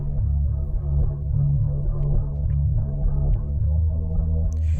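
A guitar beat built in LMMS from a computer-microphone recording, with a chorus-style stereo effect, plays as a steady, full loop of low-heavy strummed tones pulsing continuously throughout, no voices.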